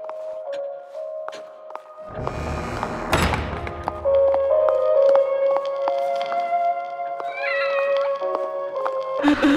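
A cat meows in a video game, its rising cry sitting over a steady bed of tonal, droning game ambience, with dull thuds near the start and end.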